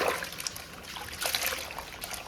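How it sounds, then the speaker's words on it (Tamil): Cauliflower being rinsed by hand in a bowl of water, soft trickling and sloshing in light, irregular splashes, close and fairly quiet with no talking. "இன்னொரு வாட்டி வந்து காலிஃப்ளவரை தண்ணியில் போட்டு இன்னொரு அலசு அலசிக்கலாம்."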